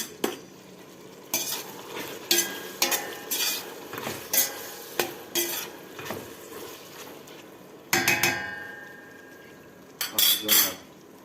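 Tomatoes sauté in a pan for a Turkish eggplant dish, with a steady sizzle broken by repeated scraping stirs of a utensil against the pan, close and fairly loud, with no talking.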